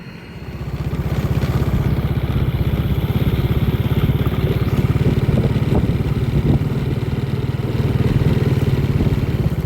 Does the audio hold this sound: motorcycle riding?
yes